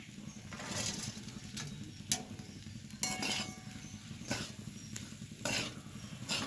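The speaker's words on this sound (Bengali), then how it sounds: "কাঁচা লঙ্কাটা দেওয়ার পর আমি ভালোভাবে নাড়াচাড়া করে নিয়েছি।" Chopped green chilies and ground spices being stirred in a frying pan, a soft low sizzle with scattered scraping and clinking strokes at a quiet distance.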